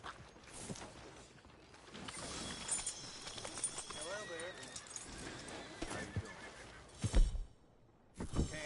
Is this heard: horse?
yes